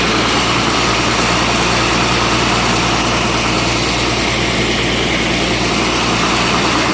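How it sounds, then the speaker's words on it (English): Sewer jetter's high pressure water pump, rated 280 bar and 170 L/min, running as a steady loud mechanical drone with a heavy low hum, continuous and unchanging throughout. "High pressure pump."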